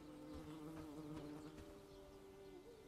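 Bees buzz steadily in the Bellwright video game, a close, continuous droning hum with a few wavering pitch changes and no voices.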